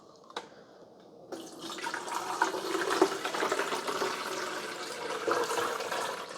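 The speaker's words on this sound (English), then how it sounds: "we're going to fill it up to the travel mark, which is 16 ounces with pure vinegar" Vinegar pouring into the reservoir of a Ninja Dual Brew CFP201 coffee maker, a steady splashing liquid stream that starts after a brief knock and continues close and moderately loud.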